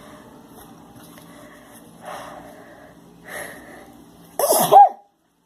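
After a couple of quiet sniffly breaths, a single loud sneeze bursts out up close near the end.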